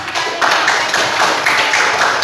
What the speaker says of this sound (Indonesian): Silakan kembali tepuk tangan untuk kelompok 1